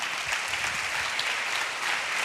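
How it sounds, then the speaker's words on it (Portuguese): Audience applause at a church gathering, a dense steady wash of many hands clapping together, full and sustained without a break. "Podemos dar um aplauso mais uma vez, querido?"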